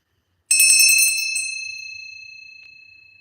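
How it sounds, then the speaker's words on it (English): A small bell is struck once for energy clearing, a bright ring that starts sharply after a short silence and then fades away slowly over several seconds, alone and close. "I'm going to set the intention for clearing the energy in yours with my bell"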